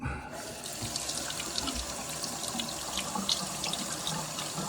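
Tap water runs steadily into a sink to flush out a household radiator, a constant hissing splash at moderate, close level with no talking.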